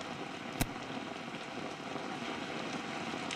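Heavy rain falling in Jaipur, a steady dense hiss of water with no gaps from start to end, broken by one brief sharp tap near the beginning.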